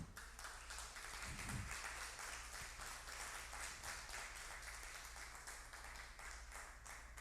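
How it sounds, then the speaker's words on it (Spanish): A church congregation claps together during a worship service, producing a steady, soft patter of many hands that continues evenly throughout at a low, somewhat distant level. "Denle un aplauso al Señor"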